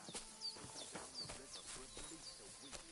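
A horse's hooves clip-clop at a steady walking pace in Kingdom Come Deliverance 2, quiet and close, with a faint bird chirping over soft outdoor ambience.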